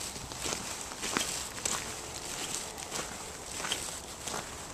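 Footsteps crunch and squelch on a damp trail, a steady walking rhythm of soft, close steps with faint rustling between them.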